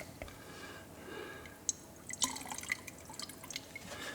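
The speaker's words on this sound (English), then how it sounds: "I'm going to put the washer fluid back in the bottle" Windshield washer fluid being poured back into its bottle during a Mustang and Cougar washer pedal test, faint trickling with scattered drips and small splashes, quiet and close.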